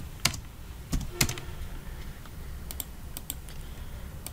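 Computer keyboard keys clatter in short, irregular bursts of clicks while an SQL insert query is typed, close and fairly quiet with no talking.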